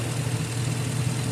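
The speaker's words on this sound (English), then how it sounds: "So, yeah, this generator runs," An Onan 3.0AJ-1R generator engine runs steadily at idle, a close, even low rumble with a constant hum and no talking.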